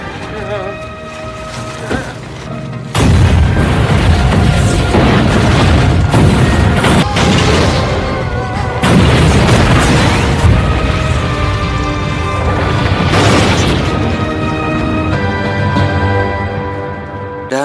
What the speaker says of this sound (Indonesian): di antara ledakan mobil yang begitu dahsyat